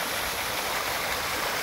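A park water fountain splashes steadily, a dense, even rush of falling water that fills the scene without pause and with no voices over it.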